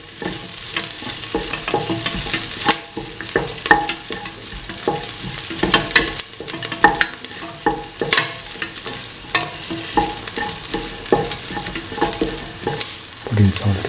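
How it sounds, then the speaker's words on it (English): A spoon stirs beef stew with ash gourd and coconut milk in a hot pan after salt goes in. Repeated scraping and clinking sit close over a steady sizzle, and no one speaks. "Salt and mix thoroughly."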